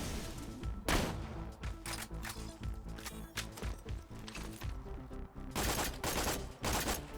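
Gunfire in the Borderlands 2 video game, with repeated bursts of rapid shots and single cracks coming in irregular clusters throughout, fairly loud against a steady background game soundscape.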